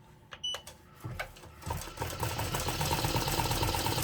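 An embroidery machine running standard 75/11 needles begins stitching a trucker hat: a few separate mechanical clicks and knocks, then a loud, steady, rapid whirring stitch rhythm close by, with no talking.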